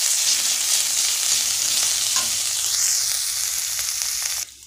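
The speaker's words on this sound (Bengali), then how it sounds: "এবার আমি এতে দিয়ে দেবো রসুন বাটা দিয়ে দিচ্ছি। দিয়ে এটাকে হালকা করে নাড়তে থাকবো।" Garlic paste sizzles in hot oil in a pan while being stirred, a loud, steady frying hiss close up that cuts off abruptly at the end, no talking.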